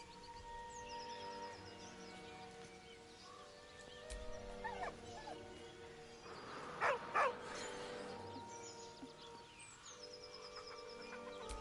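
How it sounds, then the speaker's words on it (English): A dog whines softly in Baldur's Gate 3, faint whimpers over ambient game music and background tones. "With a deep, heartbroken whine, the dog bows his head."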